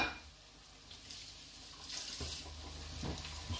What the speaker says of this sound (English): Just wipe that, wash that hand.